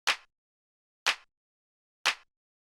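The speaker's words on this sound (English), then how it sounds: "sort of like minimal like hand clap type of sound." Three punchy electronic hand claps, evenly spaced about a second apart, each crisp and short with silence between.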